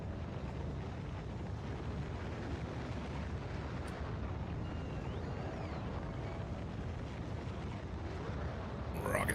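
A rocket launch roars in Factorio Space Age on the volcanic planet Vulcanus, a steady dense rumble holding at full loudness across the whole stretch with no voices, swelling slightly at the very end.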